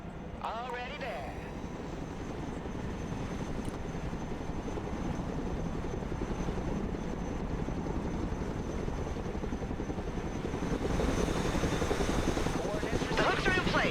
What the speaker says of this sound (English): Let's go and recover it with our helicopter.